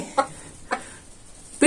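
A rooster gives two short clucks a moment apart, fairly close and alone, with a third sound starting just as the stretch ends.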